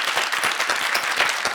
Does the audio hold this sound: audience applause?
yes